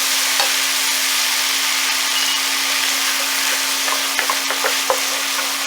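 Salmon and crawfish tails sizzle in a hot pan with a steady, crackling hiss, a low constant hum underneath and a few sharp knocks of utensils against the pan.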